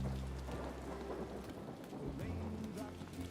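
Heavy rain falls in a video game with a steady broadband hiss and the low rumble of thunder. It runs continuously at a moderate level with no voices.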